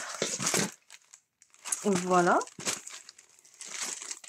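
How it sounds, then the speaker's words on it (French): Packaging crinkles and rustles as a received parcel is unwrapped, with a person speaking French before and after the handling noise and brief crackly bursts mixed in. "J'ai reçu un colis de Chibi Hour et je voulais le déballer avec vous."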